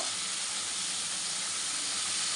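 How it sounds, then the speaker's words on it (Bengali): Radish stalks frying together with potatoes in a pan give off a steady, even hiss of steam and sizzle that stays constant throughout, with no talking. "আমি আলুটা আলাদা করে ভাজিনি এর সঙ্গেই ভেজে নেব মূলো"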